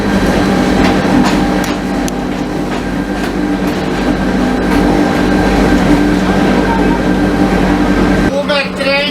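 A new Stadler electric train rolls along the rails toward Christ the Redeemer, giving a steady loud rumble with clickety-clack and a brief squeal near the end while voices talk under the noise.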